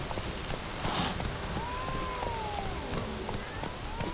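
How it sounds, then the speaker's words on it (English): A dense, steady downpour in the video game The Witcher 3 hisses throughout, with a faint rising and falling wail drifting in the background. "This downpour's a bastard, it is."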